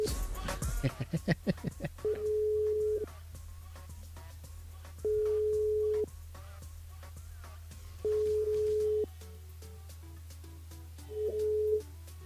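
A telephone call from a radio phone-in show ringing out, with quick dial tones first, then four evenly spaced long ring tones with silent gaps between them, heard clearly over a faint hum.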